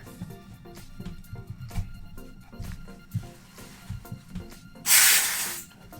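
A loud hiss of about a second bursts from a high-pressure aerosol cleaner sprayed into a CZ 75 SP-01 Shadow pistol barrel to loosen carbon buildup, after scattered close handling clicks and knocks.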